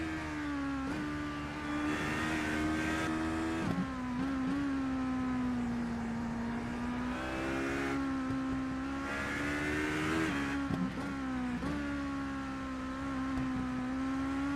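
A race car engine in the iRacing sim holds a steady, droning high-rev whine with brief dips and surges as gears shift, heard alone with no talk over it.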